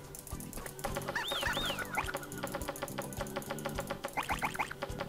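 Chickens clucking in the farming game Meine kleine Farm 2: short, bright, repeated clucks in two clusters over a busy, rhythmic background of knocks and game sounds, heard fairly close.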